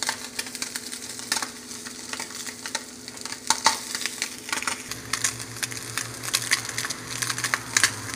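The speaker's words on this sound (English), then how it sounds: "It's just frying on its own." Spam sizzles and crackles steadily in a hot pan with no butter, with irregular pops and scraping stirs, fairly close and without any talking.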